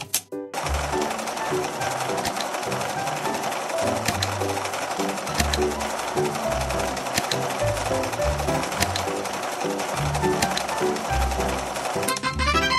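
A sewing machine in a dress-up video game runs in fast, rhythmic mechanical bursts, loud and close, with light game music beneath.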